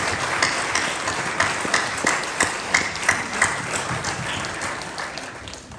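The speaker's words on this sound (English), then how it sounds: "I'd like to give a round of applause to Tony Lukey" A reception audience applauds a former mayor at an inaugural event, steady loud clapping filling the room for several seconds with sharp individual claps standing out near the front.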